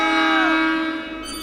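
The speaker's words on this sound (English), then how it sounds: "Stand back and exercise caution as your train arrives." In Deponia Doomsday, a train pulls into a station with a sustained tonal horn or whistle chord and a falling pitch sweep, loud and steady before tapering off near the end.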